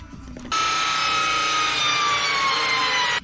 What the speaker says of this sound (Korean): 이쪽은 세면대 구멍 뚫어 놓으려고요